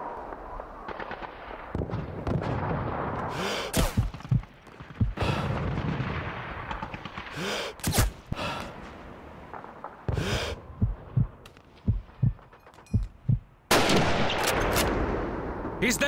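Rifle gunshots in the PC game Call of Duty 2, set in a city hall battle: a series of sharp, loud cracks at irregular intervals, some in quick pairs, over rumbling combat ambience with occasional shouted voices.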